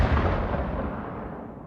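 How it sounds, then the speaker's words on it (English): A single deep boom of cannon fire at the Revolutionary War Battle of Groton Heights, loud and booming, with a long rumbling tail that slowly fades. "2 cannons fired in succession."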